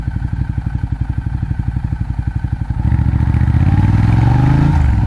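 A 2012 Ducati Diavel fitted with a Termignoni exhaust idles with a loud, lumpy twin-cylinder pulse close by, then revs up into a rising, continuous roar as it pulls away.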